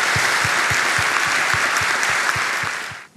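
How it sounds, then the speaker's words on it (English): Applause from an audience at a book talk, a dense steady wash of many hands clapping with a regular low thump running through it, filling the whole stretch before fading out at the end. "Round of applause."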